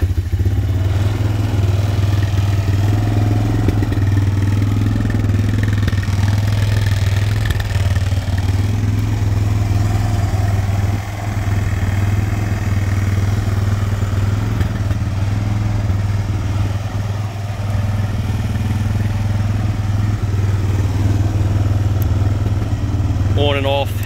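A Honda Recon TRX 250 four-stroke ATV engine is started cold, then settles into a steady, loud, close idle that runs continuously, with a low mechanical drone and some clatter throughout.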